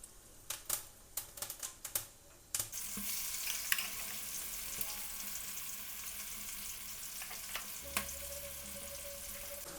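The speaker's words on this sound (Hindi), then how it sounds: "तो अब डालते हैं इसमें तड़का।" Spices for the tempering of a potato curry drop into hot oil in a pan after a few light clicks and taps, then a bright, steady sizzle and crackle takes over and continues close and alone.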